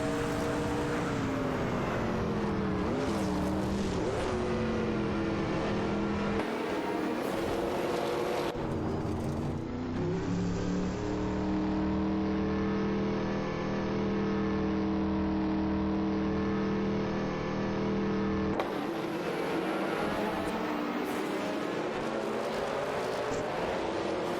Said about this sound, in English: LM facing off against Feds and Wazirius Guy, who are driving a Lamborghini Diablo GCR